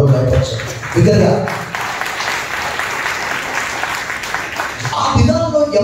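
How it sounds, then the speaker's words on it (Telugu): Loud applause from a church congregation during a Sunday worship service, a dense sustained roar of clapping with speech-like voices at the start and end. "బిగ్గరగా చప్పట్లు కొట్టి ప్రభువు బయటపరిచారు"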